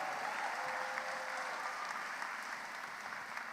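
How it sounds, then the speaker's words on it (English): An audience at a charity comedians' boxing event applauds, a broad, even wash of many hands clapping that holds steady, slightly distant and moderately quiet. "Round of applause for a worthwhile cause"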